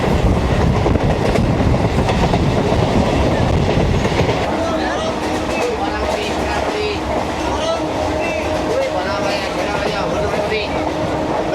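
A passenger train on the line toward Bakkhali rumbles loudly along the rails with rhythmic clatter, heavier at first then steadier, with faint voices and squeaks inside the carriage.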